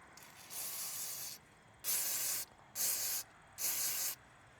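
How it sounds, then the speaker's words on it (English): Mass airflow sensor cleaner sprayed from an aerosol can during a Subaru Forester intake service, four sharp hissing bursts, the first longer and the next three short and evenly spaced, close and alone. "So use your mass airflow sensor cleaner."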